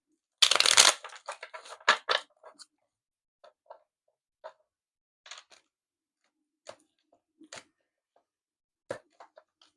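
Oracle cards being shuffled: a dense burst of riffling at the start, then sparse soft card taps and slides, quiet and close, with no talking.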